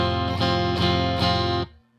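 An electric guitar on a clean patch of a Boss GT-8, with the compressor off, plays a few loud, sustained notes in a steady rhythm, then is abruptly cut off, leaving quiet.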